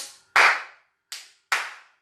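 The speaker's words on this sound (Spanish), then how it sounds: "Y podéis meter un aplauso fino" Light, crisp hand claps in a body percussion workshop: four sharp, close claps at uneven spacing, each ringing briefly into a quiet room.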